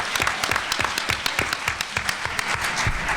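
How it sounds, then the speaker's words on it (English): An audience at a forum on women, violence and gun control gives a speaker a round of applause, brisk uneven hand claps with distinct individual slaps, moderately loud and close. "Give her a round of applause, ladies and gentlemen."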